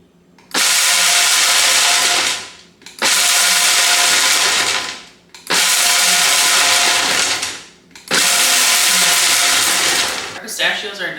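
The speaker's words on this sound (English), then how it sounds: "I'm really getting my money's worth with this blender, to be honest." Loud, close blender grinding pistachios in four long bursts of about two seconds each. Each burst revs up, roars steadily, then cuts off, with short pauses between and a brief rattle at the end.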